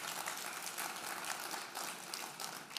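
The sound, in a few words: hand clap from the audience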